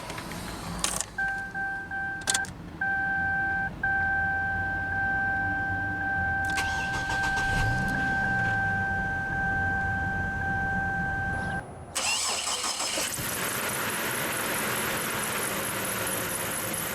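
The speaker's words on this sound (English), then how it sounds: "let's go ahead and start the engine." A 2007 Chevrolet TrailBlazer LS starts up: a chime tone sounds, the starter cranks briefly, then the engine catches and settles into a steady, loud idle.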